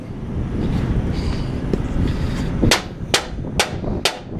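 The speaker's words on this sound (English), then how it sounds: "So you gotta do is hit these pins with a hammer." Four sharp metallic hammer strikes on trailer tandem pins ring out one after another at an even pace, following a stretch of low rumbling background noise.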